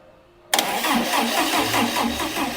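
A Volkswagen Beetle idle for three days and fitted with a replaced battery cranks briefly after a quiet moment, catches and settles into a loud, steady, near idle.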